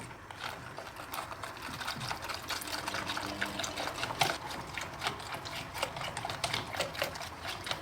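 A spoon stirs a milk pudding mixture of chicken breast supangle in a pot, giving steady scraping and clinking strokes with a faint liquid slosh throughout, close up, with no voices.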